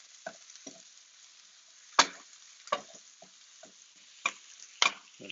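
Mushrooms fry in a pan with a steady soft sizzle, broken by several sharp, nearby clacks and scrapes of a utensil stirring.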